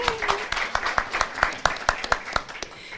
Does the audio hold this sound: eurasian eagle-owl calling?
no